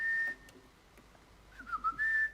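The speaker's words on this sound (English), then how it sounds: "Whistling through your teeth as well, you can." A person whistles a couple of sustained high notes, then a short wavering run of pitches ending in a held tone, close and fairly quiet with no talking.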